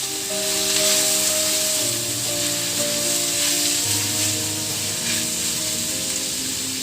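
Onions and other ingredients sautéing in a pan for pansit bihon, a loud close steady sizzle and hiss throughout with a faint tonal hum beneath, no voices.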